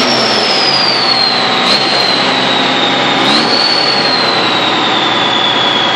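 An M35A2 army truck engine fitted with a new muffler runs steadily and loudly, a continuous droning roar with a high whine that holds for the whole stretch, recorded close to the engine compartment.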